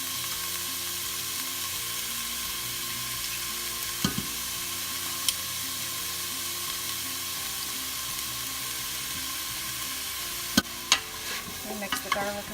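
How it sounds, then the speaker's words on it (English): Garlic sizzles steadily in oil in a soup pot, a continuous bright frying hiss with occasional scraping clicks of a utensil stirring it, growing busier toward the end. "And mix the garlic around"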